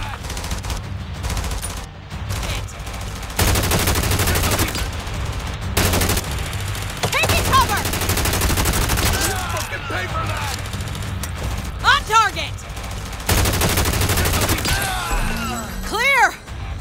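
Bursts of automatic gunfire during a mission fight in The Division Resurgence, a video game, dense and loud, mixed with voices and game effects.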